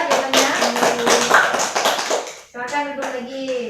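Classroom of fifth-grade pupils clapping for a classmate's good answer, a dense patter of many small hands for about two and a half seconds, then children's voices and a teacher talking.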